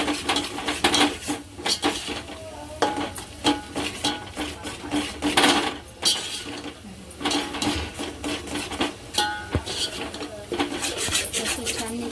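A metal spoon scrapes and clatters against a pot while yogurt is stirred into egg biryani masala, in irregular rubbing and knocking strokes at moderate volume, with no talking.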